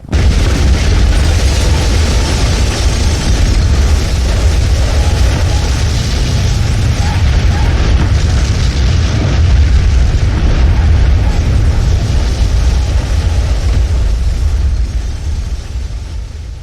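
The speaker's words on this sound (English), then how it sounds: "The explosion was heard by every single person within 30 miles of the tower." A tower explodes in the video game Manamon, a loud sustained rumbling boom with a heavy low roar that holds steady for a long stretch before easing off slightly at the end.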